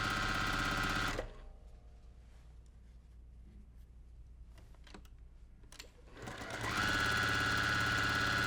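Sewing machine chain piecing fabric rectangles with right sides together: a loud, rapid stitching whir runs, stops for several quiet seconds with faint handling noises, then starts up again at full speed.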